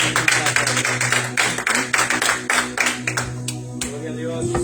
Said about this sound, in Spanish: Demos un aplauso a ellos, hermanos